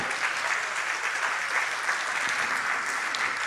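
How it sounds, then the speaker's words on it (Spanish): A church congregation claps together in steady, sustained applause, a dense wash of many hands close by, filling the whole moment without pause. "Aplaude al Señor."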